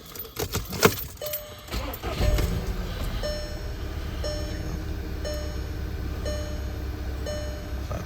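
A cold 2013 VW Tiguan engine cranks and starts after a few rattling clicks, then settles into a steady idle with a faint regular ticking on top, close by and fairly loud.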